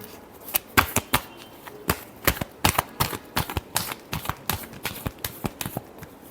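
A deck of tarot cards is shuffled close up with rapid, irregular papery slaps and riffles in quick bursts. No one talks over it.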